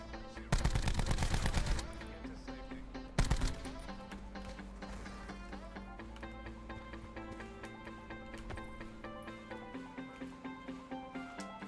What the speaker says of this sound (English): So as I rotate into antiques here, I actually get some good shots downrange into him.